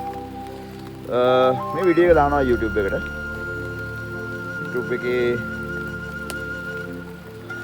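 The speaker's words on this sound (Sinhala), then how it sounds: "මේ උදේ පාන්දර වහින්න ගත්තා" Early-morning rain falls steadily over farmland as paddy and upland plots are prepared for the Maha season, a soft continuous patter running beneath someone talking close by.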